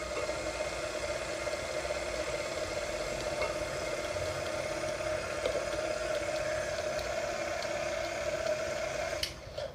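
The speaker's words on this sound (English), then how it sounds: "we're going to put the mixer back on low" An electric mixer runs on low, beating cupcake batter in a bowl with a steady, even whirring hum that holds for nearly ten seconds before a brief clatter near the end.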